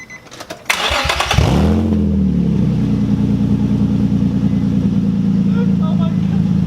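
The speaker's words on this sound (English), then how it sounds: "So that's what it sounds like with no exhaust." A Nissan 350Z with its exhaust removed cranks over, fires and settles into a loud, raw, rumbling idle with small rev blips, heard close up after a few clicks and handling noises.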